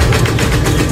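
A homemade tobacco shredding machine runs close by, a loud, steady mechanical drone with a rapid, even throb and no pauses.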